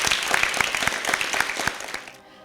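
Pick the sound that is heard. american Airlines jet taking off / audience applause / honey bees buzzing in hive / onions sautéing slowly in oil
audience applause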